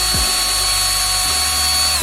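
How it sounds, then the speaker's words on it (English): A power drill bores a hole through an old brush handle, a steady close whine that holds evenly for two seconds after a brief spin-up, alone without talk. "Drill a hole in the brush handle."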